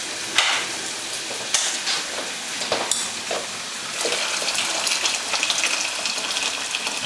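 Boiled water splashes and gushes as it is poured for pasta, a continuous rushing pour with small clatters and no talk.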